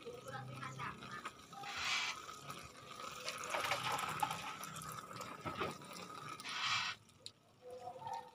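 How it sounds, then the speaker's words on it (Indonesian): Potted plants being watered on a balcony, including ginger, with splashing and pouring water in uneven bursts close by, alongside someone speaking. "Kegiatanku sore ini ya, siram-siram tanaman."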